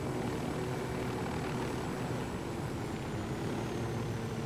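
Helicopter lifting off in Ghost Recon Wildlands, a loud, steady rotor-and-engine roar that fills the whole stretch without letup.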